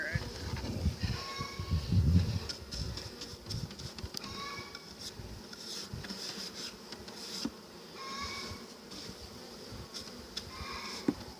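Honey bees in a large bee yard, several buzzing in and out near the mic over a low background hum, with scattered handling noise and brief movement.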